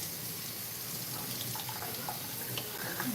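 Cauliflower being rinsed under a running kitchen tap: a steady, close hiss of flowing water splashing into a sink, constant and fairly loud throughout.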